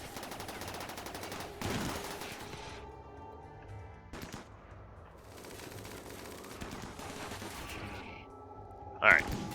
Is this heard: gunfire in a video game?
yes